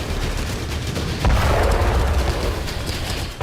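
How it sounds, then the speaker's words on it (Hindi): Heavy Russian artillery shelling in a war zone, heard as a dense, continuous roar of rumbling booms and crackling blasts that stays loud throughout with no voices. "रशियन आर्टिलरी ने यहां भारी गोलाबारी की"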